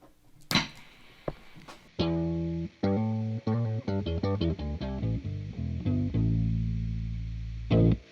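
A deep, bass-like electric guitar tone through a Donner Harmonic Square octave pedal, playing single notes and short sustained phrases, clean and fairly loud with no talking.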